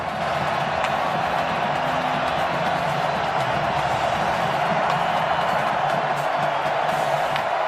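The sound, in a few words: crowd cheering at Razorback Stadium football game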